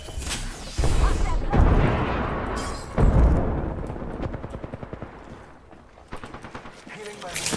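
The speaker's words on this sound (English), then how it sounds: "Grenade." Gunfire rattles through a video game firefight, with a grenade exploding in a loud burst, bursts of shots recurring across the span while a player talks over the action.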